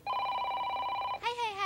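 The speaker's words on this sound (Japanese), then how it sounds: "みゆきさん、お電話です。" An old-style telephone bell rings steadily and close for about a second before a voice briefly speaks.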